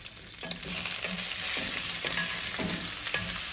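Stuffed brinjal fries gently in a pan with a soft, continuous sizzle, broken by a few rhythmic scraping stirs, close and fairly quiet with no talking.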